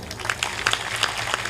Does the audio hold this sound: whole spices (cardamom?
no